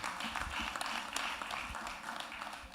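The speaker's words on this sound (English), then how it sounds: "you can give yourselves a big round of applause for what you've contributed here this evening" An audience at an evening ideas forum in Alexandra School fills the room with continuous applause, a dense, steady wash of many hands clapping from start to finish.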